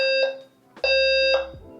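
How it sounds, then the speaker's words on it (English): Indoor fire alarm sounding in a home, loud repeating electronic tonal beeps in short bursts with brief gaps, alone without speech. "My fire alarm went off."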